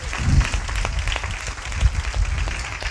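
A church congregation claps together in a loud, steady burst of applause that holds for a few seconds, with no voices over it.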